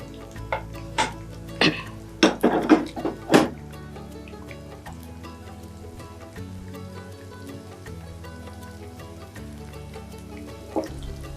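Ingredients for an iftar dish are stirred and cooked in a pan, with a gentle sizzle throughout and a burst of clattering utensil scrapes near the start, then quieter cooking.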